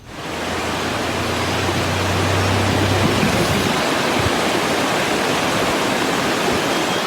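Mountain waterfalls near Kodaikanal, swollen after more than an hour of heavy rain, pour in a continuous close roar of falling water, with a faint low rumble early on.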